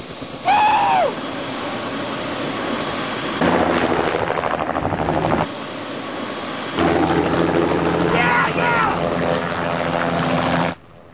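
Helicopter flying, a steady rotor and engine drone that rises and falls in level across several sections, with brief whistling tones layered on top.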